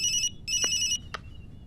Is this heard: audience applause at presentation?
no